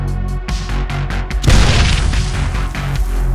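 A loud grenade blast in a 1:18 scale action figure platoon war game, a sudden booming burst that crashes in partway through and leaves a dense rumbling roar behind it.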